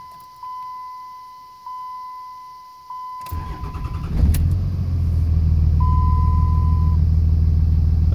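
A Cummins 5.9 12-valve diesel in a third-generation truck cranks and catches after a few warning chimes, then settles into a loud, clattering idle close by as another beep sounds.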